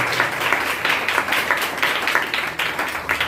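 A church congregation breaks into loud, steady applause during a child dedication service, dense clapping sustained throughout with no speech over it.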